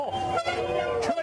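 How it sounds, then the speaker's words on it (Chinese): Passing vehicles sound their horns in support of protesters at a street demonstration, with sustained toots from nearby traffic mixed with crowd noise and talk. "车辆过来的时候他们鸣笛呢表示支持这些抗议者"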